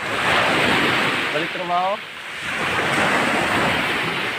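Strong sea waves surge and roar continuously at a windy shoreline, with wind buffeting the microphone, while someone briefly speaks over the surf.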